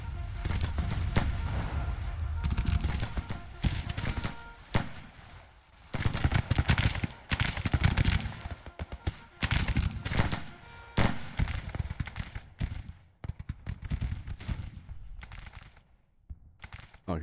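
Artillery fire from a massed battery of guns in the Grand Tactician strategy game, a dense continuous barrage of overlapping booms and cracks that rolls on steadily before thinning out toward the end.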